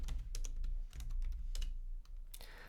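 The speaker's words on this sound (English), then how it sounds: "So I'm going to go into my downloads folder by typing down and then pressing tab" Someone types at a computer keyboard in a Linux terminal, giving irregular, close clicks and clacks in quick bursts with short pauses, quiet over a low steady hum.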